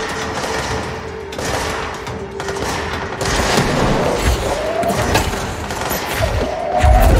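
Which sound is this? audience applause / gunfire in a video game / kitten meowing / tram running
gunfire in a video game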